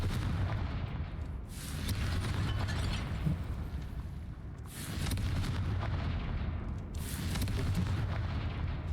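Three booming Confringo blasting-spell explosions in the video game Hogwarts Legacy come a few seconds apart. Each is a loud, close burst that rumbles and fades before the next.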